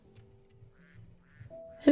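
A duck quacks in a modded Minecraft world, sounding as a short game-style quack that rises sharply at the very end over soft, steady in-game background tones.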